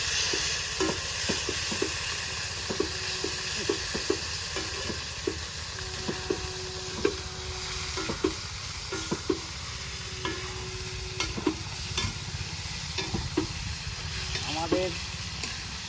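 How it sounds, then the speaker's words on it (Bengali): Pork meat frying in oil in a wok at an outdoor rice picnic, a continuous close sizzle broken by regular scraping stirs, with faint voices in the background. "মাংসটা তাহলে কড়াইতে দিয়ে দিই আমি। তেলের উপর দিলাম।"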